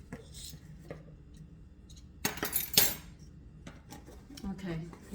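A utensil clinks and scrapes against a bowl while mushroom scone ingredients with black pepper are mixed. The sounds are quiet and sporadic, with a louder flurry of clatter midway.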